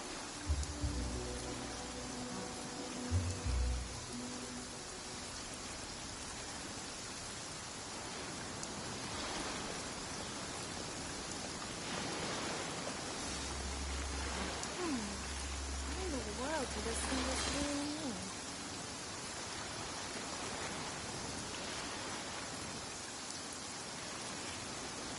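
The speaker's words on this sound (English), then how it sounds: "The sound of the ocean waves." Ocean waves make a steady, dense wash of roaring surf that fills the whole stretch, swelling slightly midway, with a few low bumps and a faint background voice under the noise.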